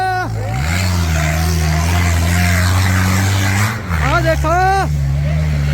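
Tractor engine roaring at a tochan pulling competition, a loud steady low drone that dips briefly near the end and then surges again, with a crowd and announcer voices over it.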